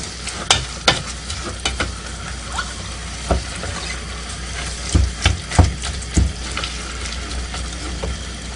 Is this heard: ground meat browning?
yes